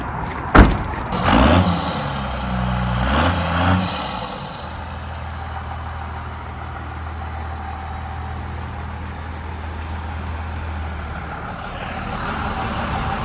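A Toyota Land Cruiser swapped to a Cummins diesel engine idles steadily close by, its low drone continuous after a couple of brief revs or door thumps at the start.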